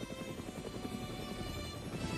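A helicopter flies in a military artillery-support role, its low rotor chop coming through faint and distant as a steady rumble.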